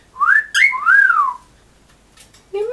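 A cockatiel whistles a clear rising-and-falling melodic phrase, two or three bright swooping notes close by, followed by a pause and a short chirpy call at the end.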